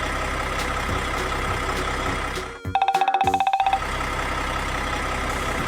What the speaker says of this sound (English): Tractor nodded and moved into the barn.